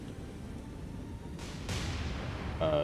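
Warship guns fire in a War on the Sea naval battle game, a couple of heavy booming blasts over a constant low rumble of engines and sea, loud and close with no voices.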